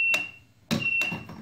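Overflow alarm on a DIY screen printing washout booth filter, sharp electronic beeps in a short burst of about three pulses, fairly close and heard alone.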